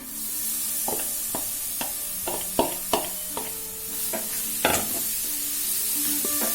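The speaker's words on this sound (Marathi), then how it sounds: "आता आपण यामध्ये हे जे किसून घेतलेलं बीट आहे ते ऍड करणार आहोत।" Grated beetroot sizzles in a frying pan, close and fairly loud, as a spoon stirs it with a run of quick knocks and scrapes against the metal while the hiss of frying carries on steadily underneath.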